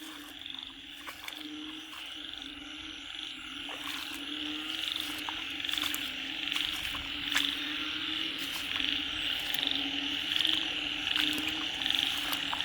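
Frogs croak in a dense, steady chorus at night in a rice field in rural northeastern Thailand, with rhythmic clicking calls repeating throughout and a constant high insect drone, moderately distant and with no voices.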